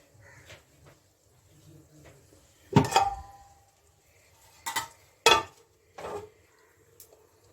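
A lid set onto a cooking pot while making a low-oil rui fish curry with flat beans and potatoes gives a sharp metallic clatter, followed by a few lighter knocks and clinks in a quiet kitchen.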